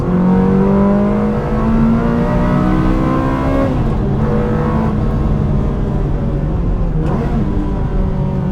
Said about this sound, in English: Starts to make you hear that induction noise from the throttle bodies behind you.